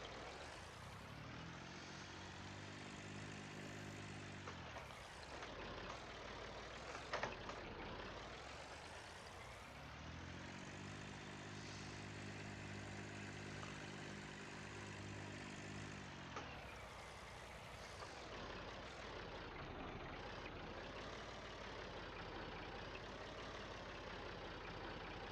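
A tractor engine held at wide-open hand throttle in Farming Simulator 19 roars steadily and loudly, droning with a heavy low rumble that dips and swells in pitch a few times as the revs shift. No talking is heard.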